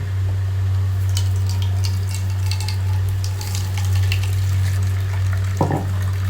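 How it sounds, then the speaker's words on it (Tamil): Pomegranate juice for a milkshake is strained through a large strainer, producing a continuous close trickle and splash of liquid over a low steady hum, with a brief clink near the end. "இப்போ வடிகட்டிக்குவோம் கொஞ்சம் பெரிய வடிகட்டியை வச்சு வடிகட்டிக்கணும்"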